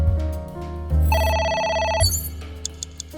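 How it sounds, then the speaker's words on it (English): A telephone rings in the AI The Somnium Files game, a bright electronic bell trilling in one burst over low ambient game music, with no voices during the ring. "A phone. Should I pick it up?"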